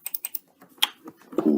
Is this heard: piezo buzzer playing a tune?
no